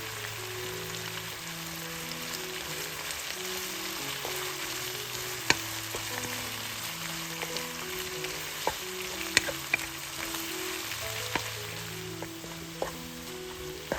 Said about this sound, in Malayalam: ഇതിലേക്ക് 2 തണ്ട് കറിവേപ്പിലയും ചേർത്ത് ഏതാണ്ട് 1 മിനിറ്റോളം വഴറ്റുക.